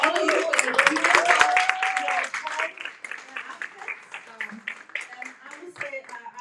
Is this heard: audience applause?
yes